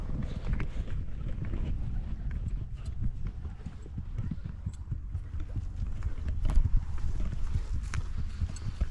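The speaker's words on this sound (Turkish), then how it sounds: "şimdi at sürmeye başladık" Horse hooves clip-clop steadily at a walk while riding in open country in Mongolia, close and continuous over a low wind-like rumble, with no talk.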